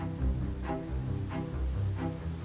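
Rain falls steadily outdoors across the landscaped grounds and old buildings of an English estate garden, a continuous soft patter and hiss with occasional heavier drops, and no voices.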